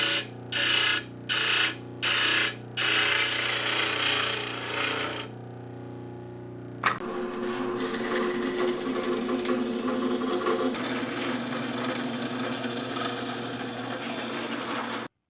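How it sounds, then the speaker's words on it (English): Table saw cutting off screws in a wood shop: several short, loud bursts of whining cutting, then a lull and a sharp clack, followed by a steady running hum of the saw. "I'll just cut those off on the table saw."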